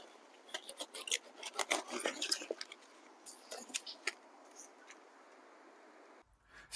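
A garden cauliflower being cut for harvest, heard as close, crisp snipping and tearing crunches in irregular bursts that grow sparser, then a brief rustle at the end.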